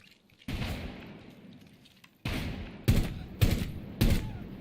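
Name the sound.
gunfire thud in the video game Rainbow Six Siege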